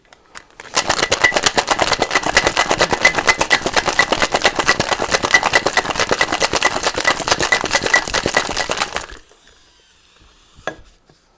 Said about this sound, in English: So we're going to do another shake, and this is going to obviously add dilution and chill our cocktail.